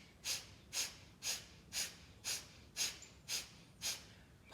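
Rapid belly breathing in breath-of-fire style during a healing and balance practice: eight forceful, evenly spaced breath pulses, close and fairly soft, with no talking.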